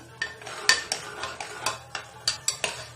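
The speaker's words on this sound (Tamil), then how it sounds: "நல்லா வதக்கிக்கலாம்" A spoon scrapes and clacks against a pan while chicken masala gravy with ground tomato is sautéed, sharp metallic stirring strokes repeating in an uneven rhythm over a faint low hum, close and without talk.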